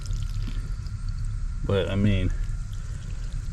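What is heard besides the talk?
solar-powered pump pouring water into a DIY stock tank pond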